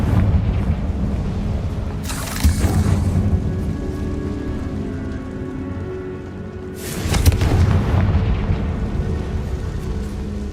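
A Confringo blasting spell detonates in a Harry Potter video game, two heavy booming explosions a few seconds apart, each a loud broadband burst over a continuous low rumbling game backdrop.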